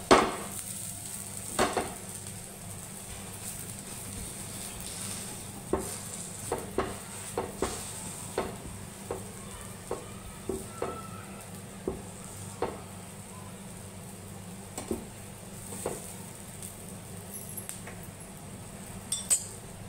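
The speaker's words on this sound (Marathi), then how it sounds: "दोन्ही बाजूने असं भाजून घ्यायचं" Matar thalipeeth paratha roasting on a pan, a faint low sizzle running underneath sparse, sharp clinks and taps of a utensil against the pan, close and quiet with no voices.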